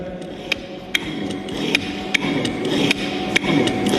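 An electronic throttle body valve being tested under spring preload opens and closes sluggishly, giving a series of sharp mechanical clicks and knocks over a steady hum, close and alone with no talking.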